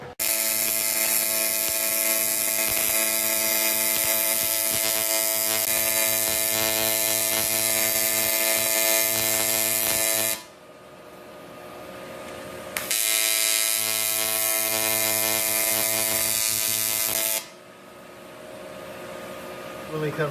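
An angle grinder grinds down a weld crack on aluminum in two loud, steady bursts, the first about ten seconds long and the second shorter, with a brief quieter gap between them.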